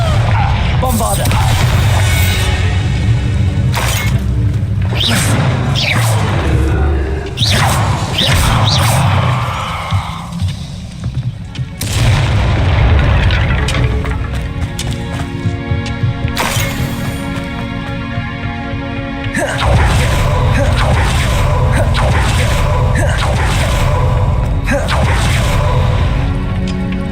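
Repeated explosion spells go off in the Hogwarts Legacy video game, a run of loud booms, crashes and clinks mixed with game music and combat noise across a long, dense stretch.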